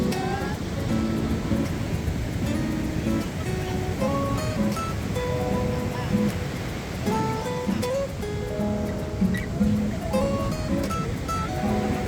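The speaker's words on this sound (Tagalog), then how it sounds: "Lakas pa nung alon." Strong ocean waves breaking on the shore at Baler around sunrise: a continuous loud wash of surf with some tonal sounds layered over it.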